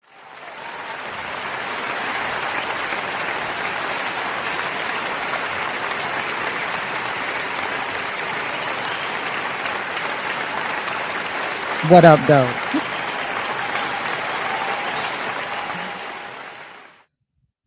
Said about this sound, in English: I just had to give you guys an applause